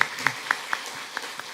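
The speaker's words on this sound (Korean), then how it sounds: "박수로 한번 환영하고 축복하도록 하겠습니다" Members of a Korean church congregation at Sunday worship clap to welcome a returning member: six separate, evenly spaced claps, fairly faint and echoing in a large room.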